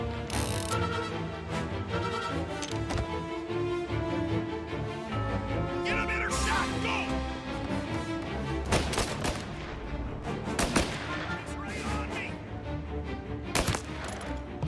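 Gunfire from Mafia: Definitive Edition, with repeated sharp shots scattered over a dense bed of game music and ambience, loud and close, with several sudden bursts standing out near the end.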